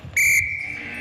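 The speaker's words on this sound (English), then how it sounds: "the whistle went halfway through the throw" A referee's whistle at a youth gold medal match between SA and Vic: one sharp, loud blast that holds steady for most of a second, with faint crowd noise underneath.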